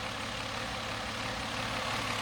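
A 1978 Mercedes-Benz 280SE Euro model with a 2.8-litre DOHC M110 inline-six idles steadily, a low, even engine drone holding at constant level throughout.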